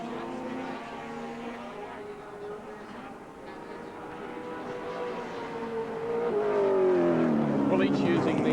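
Touring race cars at the 1984 ATCC round at Wanneroo Raceway roar down the main straight, engines droning steadily and swelling louder toward the end as they draw closer, with a commentator talking over them.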